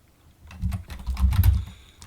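Close, clear keystrokes on a computer keyboard while entering a command in a Linux terminal, a short burst of several taps clustered in the middle of an otherwise quiet moment.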